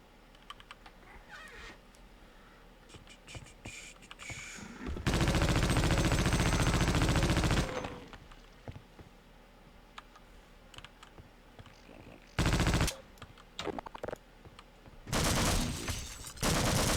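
Automatic gunfire in the video game Half-Life: Opposing Force comes in long dense bursts, one lasting several seconds and two shorter ones later. Between them are quieter stretches of rapid clicking, like keyboard typing, with no talking.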